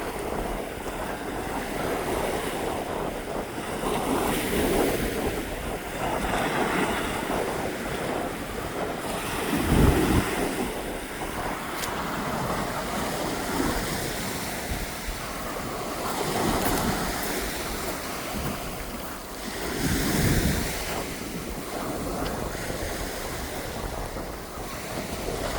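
Ocean waves wash onto a quiet Pacific beach in Victoria, British Columbia, a steady roar of surf with wind buffeting the microphone and a few louder swells breaking at intervals.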